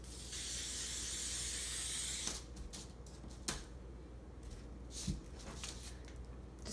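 A steady, loud hiss of spray adhesive from an aerosol can runs for about two seconds, then stops, followed by faint handling clicks and rustles.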